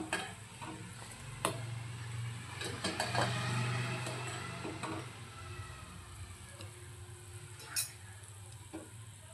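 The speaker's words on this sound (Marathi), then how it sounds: "छान उकळी बघा आपल्या भाजीला आलेली." Egg curry bubbling at a boil in a pan, a steady low simmering burble with a few sharp clinks and ticks of a utensil against the pan, fairly quiet and close, no voices.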